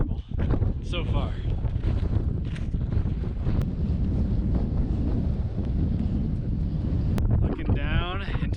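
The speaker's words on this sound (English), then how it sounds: "A little windy, but honestly" Strong gusty wind roars and buffets the microphone continuously on the summit of Pikes Peak, Colorado, with brief bits of voice breaking through near the start and end.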